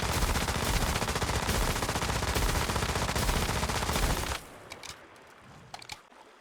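Video game gunfire from shooting at a target: a rapid, sustained automatic burst for about four seconds, then the shooting stops and a few faint clicks follow.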